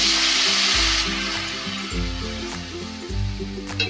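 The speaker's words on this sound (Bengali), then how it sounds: "এবার আমি জল দেব।" Steady loud sizzling of a hog plum (amra) mixture frying in a pan as water is poured in, with low bubbling pulses rising and falling throughout, no voices.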